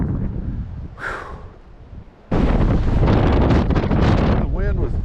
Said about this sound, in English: get hit with a gust of cold wind